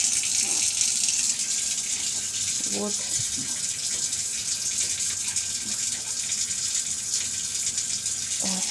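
Tap water runs steadily to rinse a small snail while its container is cleaned. The flow is a continuous close hiss, with someone speaking briefly over it.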